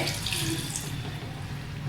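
Water pouring steadily into a pressure cooker while preparing black chickpea curry, a continuous close gushing splash lasting about two seconds with no speech.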